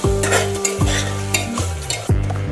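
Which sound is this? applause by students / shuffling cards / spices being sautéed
spices being sautéed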